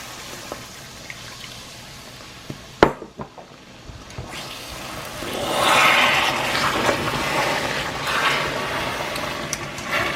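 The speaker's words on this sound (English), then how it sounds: "Sugar is melting already, and I'm going ahead and add some water" Water poured into melting sugar in a pan while making a Lao egg roll sauce, giving a sudden sharp hit and crackle followed by a broad rushing sizzle that swells and holds, with no talking.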